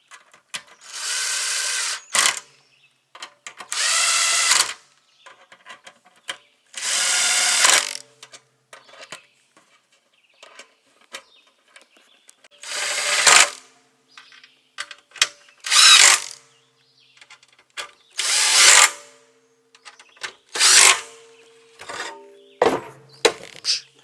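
A power drill runs in repeated short bursts, driving bolts down on a Stark charger stand. There are about a dozen whirring runs separated by pauses, close and loud, and the later bursts come in quicker succession.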